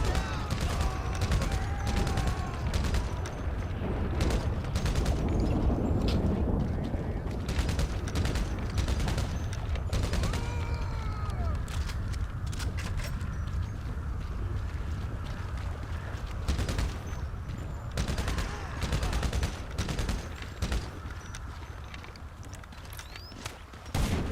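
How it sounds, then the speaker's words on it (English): Machine gun fire from GTA Online crackles in repeated bursts and rapid volleys, sharp and close, with pauses between strings of shots and some clanking movement underneath. "Machine gun OP."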